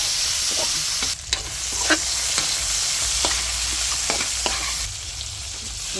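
Ingredients sizzle steadily as they are sautéed in a pan for Ilonggo fish escabeche, with scattered scrapes and clinks of stirring over a constant frying hiss.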